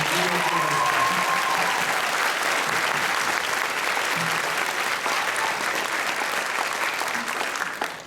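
Sustained audience applause at a school music concert, a thick crowd of clapping hands heard close and continuous, with a brief tonal trace and faint voices at the start before it tapers at the very end.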